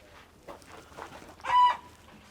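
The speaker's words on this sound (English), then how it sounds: "Forgive my chickens." Backyard chickens clucking beside a garden studio, several short soft clucks followed by a louder, close crowing call from a rooster, with quiet surroundings between calls.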